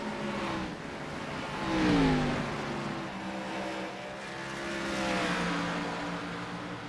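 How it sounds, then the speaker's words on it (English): Engine note from the number 14 Toyota Supra race car circling Bristol Motor Speedway, a sustained droning roar that swells twice as cars pass, with pitch sweeping up and down as they go by; no talk. "Jeremiah Mullins out of Richmond, Virginia, driving the number 14 Slick Shift Racing Toyota Supra."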